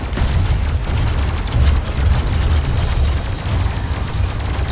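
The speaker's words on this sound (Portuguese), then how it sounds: "Enquanto ele não me viu, eu fico atirando nele" Shooting at an enemy robot in the Robocraft vehicle combat game: a steady, dense stream of rapid weapon fire with heavy low rumble, loud and continuous throughout, with no talk.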